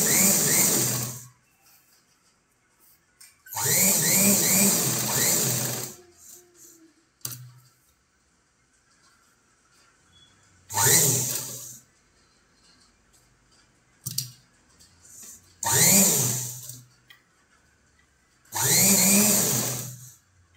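A sewing machine stitches a press seam on a boat-neck princess-cut blouse, running in five short close bursts of rapid mechanical whirring separated by quiet pauses with small clicks.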